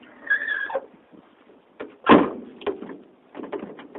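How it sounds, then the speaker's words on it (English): A rusty old Ford Falcon four-door car door is shut once with a single dull thud, preceded by a brief metallic creak and followed by faint knocks and rattles nearby. "Door kind of shuts."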